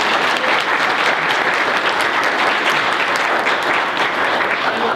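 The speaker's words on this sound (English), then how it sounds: "Let's give our panel another round of applause." Audience applause for a panel at a December 2017 community event, steady and dense clapping throughout, loud and close with no talking.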